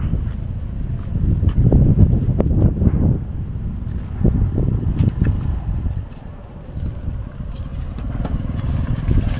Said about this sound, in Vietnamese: gió này mạnh á gió mạnh á